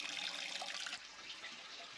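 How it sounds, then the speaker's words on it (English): Water running steadily into a toilet cistern, a faint continuous hiss that drops in level about halfway through. "I haven't turned the water off, it's still running"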